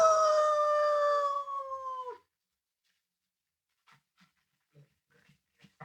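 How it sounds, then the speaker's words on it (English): A sheriff's dog gives one long, loud, wavering howl that breaks off sharply, followed by faint, scattered sniffs and pants. "the sheriff's dog"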